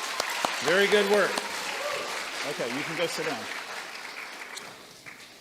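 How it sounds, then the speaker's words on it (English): An audience applauding a most-improved-in-reading award at an elementary school awards ceremony, steady clapping throughout while an adult voice speaks over it, fading toward the end. "Let's give them one round of applause"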